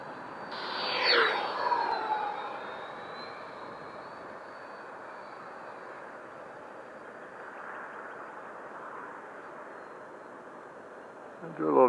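Freewing F-18C 90 mm electric ducted-fan RC jet flying on a test flight, a steady distant whine and rushing hum that swells near the start, then holds faint and even while it cruises.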